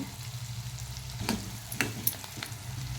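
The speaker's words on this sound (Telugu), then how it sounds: "ఉల్లిపాయలు ఇంకా వేస్తాను వేగుతుంది చూసారా" Onions fry in a pan for a curry, giving a steady close sizzle with a few brief stirring scrapes and clinks over the hiss.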